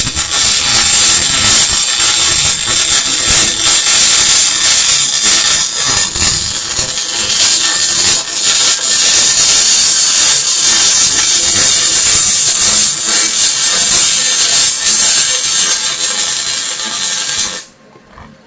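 Arc welding on metal during a student's first session, a steady loud crackling hiss running without pause for about seventeen seconds and then cutting off abruptly.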